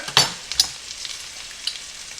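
Sausage and onions sizzle steadily in a pan, a soft continuous frying hiss broken by a few louder spatters and stirring scrapes near the start, with no talking.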